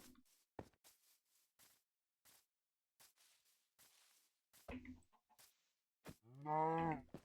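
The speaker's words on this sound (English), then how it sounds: "Cow!" A cow in the Minecraft Bedrock video game gives one low, drawn-out moo near the end, preceded by scattered soft clicks and brief in-game noises against near silence.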